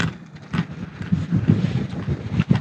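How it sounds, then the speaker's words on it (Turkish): Strong coastal wind at Babakale, a famously windy spot on Turkey's Aegean coast, buffets the microphone in a steady roar with gusty surges and low rumbling throughout, no voices present. "Babakale zaten rüzgarlarıyla da meşhur bir yer."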